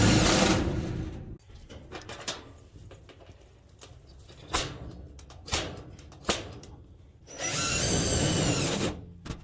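Drill driving self-tapping screws into a scrap-metal oven, with a long whirring run at the start, several short sharp bursts and knocks in between, and another sustained whir near the end.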